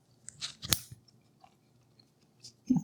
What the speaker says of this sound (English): crunching